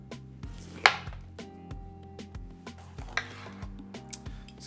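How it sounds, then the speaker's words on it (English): A knife chops a green bell pepper into strips on a cutting board, making steady close knocks about twice a second with one louder crunch, and no talk. "Let's cut these up into little strips."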